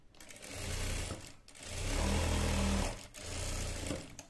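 A sewing machine stitches a child's plain salwar in short runs, three bursts of whirring separated by brief pauses, close and clear with no talk.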